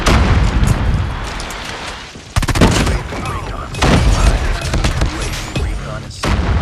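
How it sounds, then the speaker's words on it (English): Predator missile strike in the shooter game Call of Duty Mobile, a heavy explosive impact amid dense bursts of gunfire and blasts during a multiplayer match, loud and close, with game voice callouts mixed in. "Hostile Predator missile inbound."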